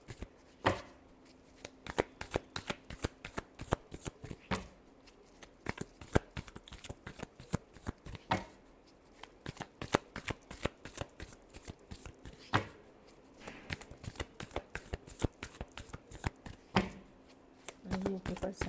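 Tarot cards shuffled by hand in a repeated run of crisp riffling flicks and rapid slaps, close and fairly quiet, with brief pauses between bursts.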